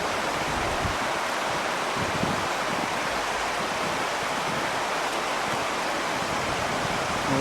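A river flows along a walking stretch at Ashford-in-the-Water, a steady broadband rush of moving water that stays close and even throughout, with no voices.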